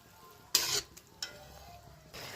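Fish curry gravy simmers in a pan with fried fish pieces, a faint bubbling and sizzle broken by a few sharp clinks and scrapes of a spoon against the pan.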